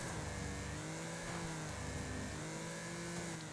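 Car engine in the racing game Wreckfest held under gentle throttle with a front right wheel damaged, a steady mid-pitched engine hum that rises and dips slightly, loud and continuous with no voices.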